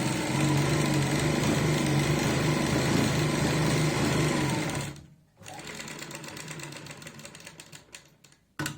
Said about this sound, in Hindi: और बुकरम के साथ साथ सिलाई लगाएंगे।